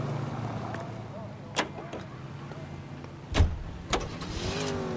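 A sports car in L.A. Noire idles with a low engine rumble while doors thump and clunk a few times and a faint rising engine tone follows near the end.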